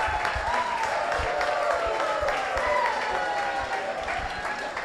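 An audience applauding at a ceremony honouring men, sustained crowd clapping throughout with some voices and a tonal sound mixed in.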